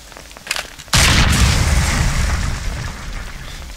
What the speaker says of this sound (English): Let me get a flashbang up.